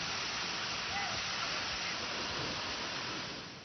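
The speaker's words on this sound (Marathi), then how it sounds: "सर्वात मोठा उखळूचा धबधबा संततधार पावसामुळे पावसाळ्यापूर्वीच प्रवाहित झाला आहे" Steady broadband roar of the Ukhalu waterfall flowing after continuous heavy rain, constant and fairly distant, fading slightly at the end.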